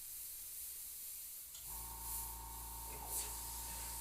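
An airbrush fitted with a 3D-printed nozzle attachment sprays a steady, continuous hiss that starts partway in and holds, close and fairly quiet, with a faint compressor-like hum under it.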